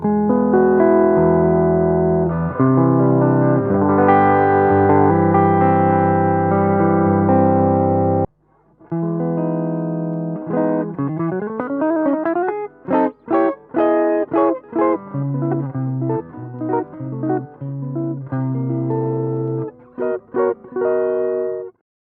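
Electric guitar played through a 1952 Fender 600 tube amp, warm and slightly overdriven: sustained chords ring out, then a pause gives way to rhythmic picked notes and bends.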